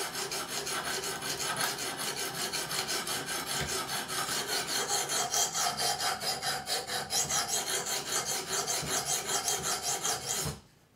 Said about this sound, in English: This is 80 grit diamonds. I need to first grind this down.